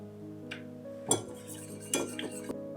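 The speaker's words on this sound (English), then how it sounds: "Whip the gelatin in the cream." Gelatin being whisked into hot heavy cream in a bowl, with a few quiet scraping strokes and light metallic clinks against the side over a low background hum, and no voices.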